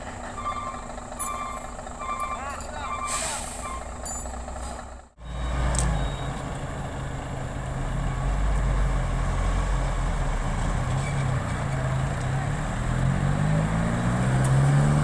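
A Scania truck hauls a giant machine, a PC1250SP excavator, along a road with its heavy engine droning steadily, a brief drop midway, then a rising low rumble as it pulls; reversing-style beeps sound early on.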